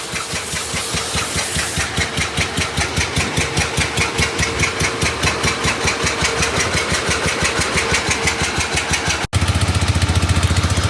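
Engine running on its right cylinder only through a fully restored K-37 carburetor, a loud, close, steady rhythmic chugging pulse that jumps abruptly to a harsher, faster beat near the end.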